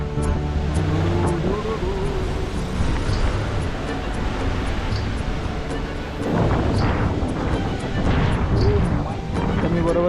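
Sea waves breaking on the rocky back side of Vijaydurg fort, a continuous roar of surf with heavy wind buffeting the microphone and a louder surge of crashing water near the end.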